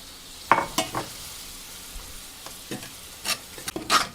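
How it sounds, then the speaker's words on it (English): Milk poured into sausage gravy in a pan on medium heat, with a soft steady sizzle beneath several short scraping stirs and utensil clicks spread irregularly across a few seconds. "Adding in a 1/2 cup of milk."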